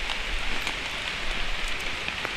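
Heavy rain falls on a forest trek through dense woods, a steady hiss of drops on leaves and ground with no talk.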